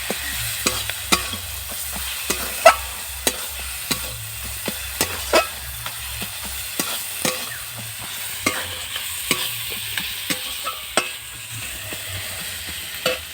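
Garlic paste frying in a pan for a chicken curry, a soft steady sizzle punctuated by regular spatula taps and scrapes against the metal, close and distinct.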